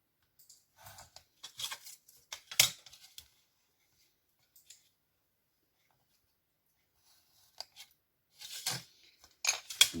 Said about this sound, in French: Pareil, je trace et je coupe.